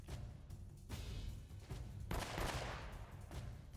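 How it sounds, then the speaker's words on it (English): Gunfire from Elena's shooting in Uncharted: Drake's Fortune, dense bursts of rapid shots with heavy booming blasts, loud and continuous across the stretch. "I hear Elena still shooting."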